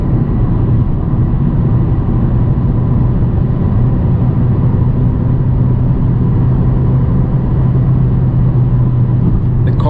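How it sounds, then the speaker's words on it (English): A 2019 Mercedes A180d sedan accelerating in sport mode at night, a steady low engine drone blended with road and wind rumble, heard continuously and fairly loud from inside the cabin. "This car is so small, it picks up speed so easily"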